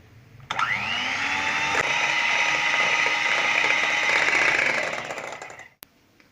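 An electric mixer beats cake batter with oil added for a caramel cake, starting abruptly with a steady high whirring drone that holds for several seconds before winding down and stopping.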